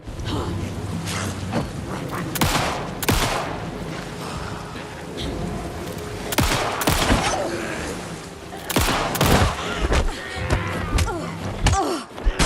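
Rapid gunfire from enemies and the player's weapon in the survival horror game Alan Wake 2, bursts of loud cracks repeating through the scene over a steady rumbling game soundscape.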